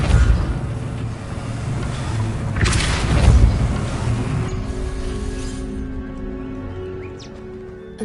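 A Depulso force spell cast in Hogwarts Legacy gives a loud rushing magical burst with a booming, creaking swell in the middle, which fades into quieter ambient game sound.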